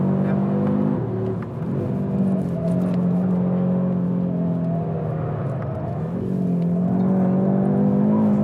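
Audi RS3 engine on a dynamic driving lap, a loud, close, droning tone that rises and falls with throttle, dipping briefly and pulling up again as the car works through corners, with no speech.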